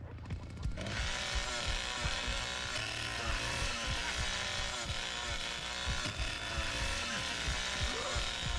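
A chainsaw drones steadily in The Texas Chain Saw Massacre video game, a harsh buzzing engine whine running loud and continuous throughout, with game sounds and a voice faintly underneath.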